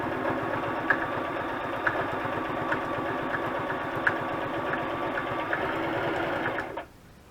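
Sewing machine stitching a junk journal cover, a close, steady rapid whirring with a regular mechanical rhythm that runs continuously and stops abruptly near the end.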